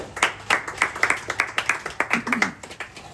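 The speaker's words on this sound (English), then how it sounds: "So clap it up for yourselves, man." A youth sports team claps in a locker room, with sharp individual claps in an uneven rhythm close by, loud and punchy, with some voices mixed in.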